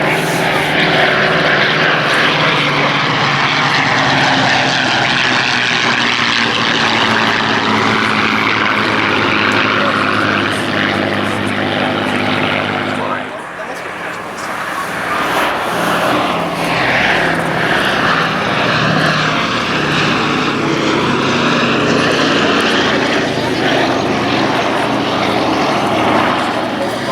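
A Boeing B-17 Flying Fortress, a four-engine World War II bomber, passes at an air festival, with a loud, steady propeller drone and a sharp dip midway as it goes by.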